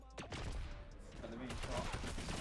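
Fortnite gunfire crackles as a dense, continuous fusillade of shots throughout, fairly loud with voices mixed in underneath.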